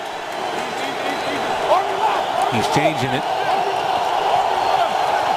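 Loud, steady roar of a packed stadium crowd at an NFL game between the Buffalo Bills and Cleveland Browns, sustained throughout with a commentator talking over it.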